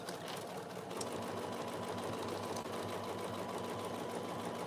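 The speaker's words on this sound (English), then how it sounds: "I'm just going to top stitch that turning hole closed" A sewing machine runs steadily at close range, top stitching the turning hole of an oven mitt closed, with an even, continuous mechanical whir and no talking.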